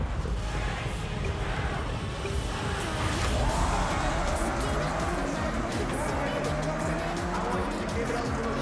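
Race cars roar through a Forza Horizon 6 video game race, engines droning loudly and continuously with rising pitch sweeps and bursts of tire squeal, a steady dense mix throughout.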